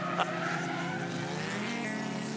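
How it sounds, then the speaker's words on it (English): A racing car on Kendra tyres squeals through a corner at Hidden Valley during a 2016 Improved Production race, a loud sustained tonal whine blended with engine roar, close and continuous, with no talk. "the squeal of those Kendra tyres"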